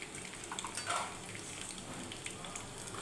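Raw turmeric frying in mustard oil in a small bowl on a gas stove, a steady, fairly faint crackling sizzle with a slightly brighter burst near the start.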